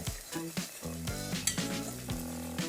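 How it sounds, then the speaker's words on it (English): Butter and a dairy-free flour blend sizzle in a pan for broccoli soup, a steady close crackle with soft whisk scrapes and faint tonal tones running underneath. "This is just my basic flour blend going in with the butter, and I'm going to mix it as I go"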